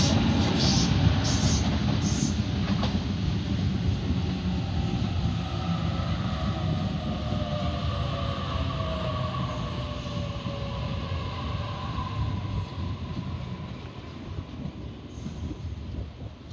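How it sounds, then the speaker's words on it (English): Sydney Waratah Series 2 electric train arriving at a suburban platform, a broad steady roar of motors and wheels with faint squealing tones drifting across, loud and close and sustained throughout, with no talk. "we have the Waratah Series 2 approaching platform number 1"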